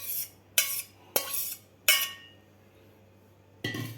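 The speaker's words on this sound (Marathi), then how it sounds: "आता आपल्याला हे शिजवून घेतलेल्या फोडी चाळणीमधून गाळून घ्यायच्या आहेत व्यवस्थित" Cooked green mango pieces are tipped and pressed through a metal sieve into a bowl, giving four or five sharp clinking knocks of utensil on metal, each trailing off into quiet, with no voices.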